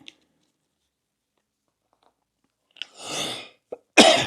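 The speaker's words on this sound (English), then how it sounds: "Got a cough" A person with a bad cold, sitting at an easel with white paint, gives a few close coughs after a stretch of near silence: a small catch, a muffled rasping cough, then a brief click and a sharper, louder cough at the end.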